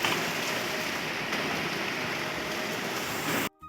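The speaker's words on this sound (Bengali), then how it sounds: "দুপুরবেলা বৃষ্টি শুরু হয়ে গেছে খুব বৃষ্টি করছে" Heavy monsoon rain at midday, seen from a window, a dense steady hiss of falling water that holds evenly at close range before cutting off abruptly at the end.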